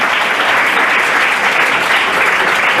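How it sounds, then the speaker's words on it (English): A comedy club audience at a 1990 hypnosis show claps loudly and continuously, a dense close wash of applause with no pauses. "Give this girl a nice big round of applause for coming up here."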